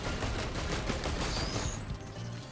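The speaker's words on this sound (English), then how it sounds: "Ah, another missile." Rapid volleys of missiles firing in the video game Risk of Rain 2, a dense crackling barrage with sharp bursts that holds steady and loud throughout, with no talk over it.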